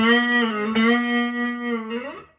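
A single sustained electric guitar note bends up, eases back down in a string bend and pull-off, then rises again before fading, played alone with no talking.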